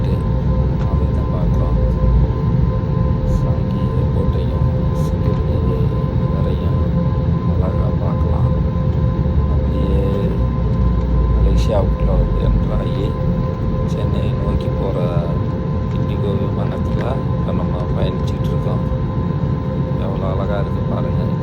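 An airliner's engines roar loud and steady as it takes off at Singapore Changi International Airport, heard from inside the cabin, with low rumble throughout and voices talking over it.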